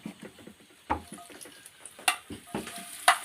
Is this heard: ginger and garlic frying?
yes